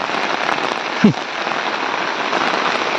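Steady, dense patter of heavy rain drumming on a homemade tent's fabric at a campsite by Pimpalgaon Joga Dam near Malshej Ghat, constant throughout with one brief low thump near the middle.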